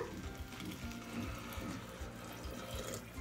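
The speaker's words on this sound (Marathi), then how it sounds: "यामध्ये आता आपण गरम केलेलं पाणी घालूयात" A soft, steady rush of hot water pouring continuously into a pot of sautéed rice for masala rice, close by and low in level, with no speech.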